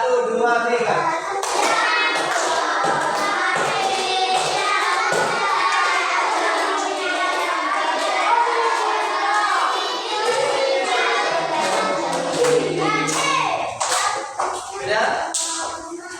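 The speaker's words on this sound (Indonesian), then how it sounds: "Sambil tepuk tangan, nyanyinya yang keras dan enak suaranya" A group of children sing loudly together while clapping their hands in rhythm, a lively chorus of young voices with sharp claps running throughout, some shouting mixed in.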